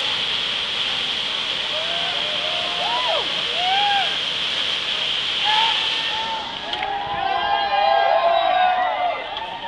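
A kayak plunges over Bull River Falls amid a steady, loud roar of rushing water, with scattered shouts and cheering voices rising over the torrent.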